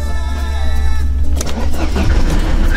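A Mercedes-Benz W210 E220d diesel with its clutch pedal sticking is cranked and fires up, a steady low drone giving way to the rough, clattering roar of the engine catching, loud and close.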